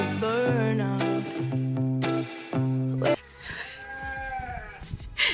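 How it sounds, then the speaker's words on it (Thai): Sheep and lambs bleat on a farm, several overlapping calls with steady harmonic cries, close and loud, running continuously alongside other livestock and background noise, with no talk. "น้องภูมิอยากจะอุ้มลูกแกะนะคะแต่แม่เขาก็ค่อนข้างที่จะห่วงนะคะ"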